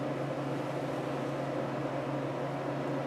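An electric heater runs steadily in a room, a faint, even broadband hum and hiss with a low tonal drone, continuous with no voices.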